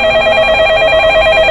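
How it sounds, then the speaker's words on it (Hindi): A landline telephone rings loudly and continuously, a warbling electronic trill that pulses rapidly and evenly throughout, with no voices. "जैसे ही फोन के वो लैंडलाइन नंबर बजना स्टार्ट हुआ"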